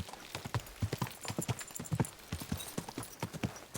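Horse hooves clip-clopping at a steady walk, a close series of distinct hoof knocks in an irregular rhythm with faint shuffling between steps, no talk.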